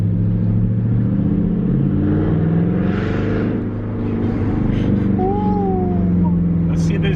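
Jaguar XK 5.0 naturally aspirated V8 with muffler delete accelerating, a deep steady exhaust drone and rumble throughout from inside the car, with people talking over it.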